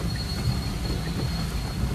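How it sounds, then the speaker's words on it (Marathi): Metro train running past, a steady broadband rumble and hum with faint wheel noise and a thin high whine throughout, moderately loud and continuous with no speech. "अपूर्व चालली मेट्रोनी."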